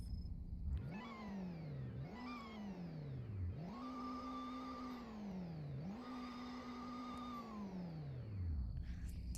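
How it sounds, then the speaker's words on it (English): Supercharged sleeper car in the Roblox Greenville game revving repeatedly, four rising-and-falling engine sweeps with a whining supercharger tone riding over the engine note, steady and fairly close. "this thing has a turbocharger and a supercharger, which you can hear the supercharger"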